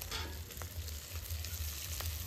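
Bay leaves hitting hot oil while cooking bottle gourd in a home kitchen, a steady close sizzle and frying hiss running continuously with a low rumbling bed beneath.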